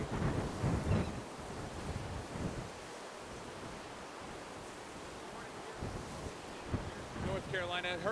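Strong wind from Hurricane Arthur on the Carolina coast buffets the microphone in heavy gusts with a roaring surf-like rush, and voices cut in briefly near the start and end.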